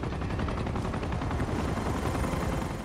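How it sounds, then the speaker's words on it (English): A helicopter in the Uncharted 2 video game roars with a dense, steady rumble, tangled with continuous gunfire and machine-gun bursts at constant high volume throughout. "There's a helicopter."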